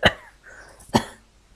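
Two short, close coughs about a second apart, each a sharp single burst, with a faint vocal sound between them and no speech.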